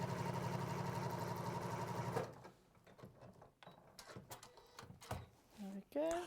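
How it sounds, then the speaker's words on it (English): Sewing machine stitching a blanket stitch around the edge of fabric, a rapid rhythmic mechanical whir for about two seconds, then it stops, leaving scattered handling clicks and a short bit of talk. "So now I'm just going around the edge with a blanket stitch to get it all stitched down"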